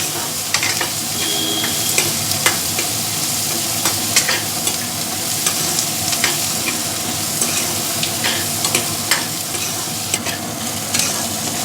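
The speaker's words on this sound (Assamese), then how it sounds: "এতিয়া আদা নহৰু আৰু পিঁয়াজ এইখিনি গোটেইখিনি মই ভালদৰে ভাজি ল'ম" Chopped onions, ginger and garlic frying in a pan for a fish curry, a steady close sizzle broken by frequent sharp scrapes and taps of stirring, with no talk.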